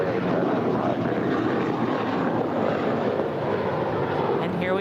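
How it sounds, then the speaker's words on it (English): JetBlue airliner taking off from LAX, a loud, continuous roar of jet engines that stays strong throughout, heard from nearby. "And here we have JetBlue 785 off to Miami"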